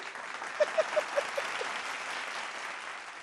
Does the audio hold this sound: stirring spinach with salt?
no